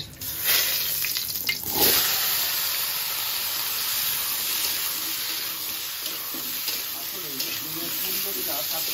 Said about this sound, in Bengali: জিরেটা একটু টকবক করে ফুটতে না ফুটতে